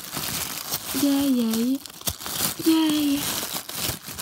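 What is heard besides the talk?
toy horse packaging being cut open, crinkling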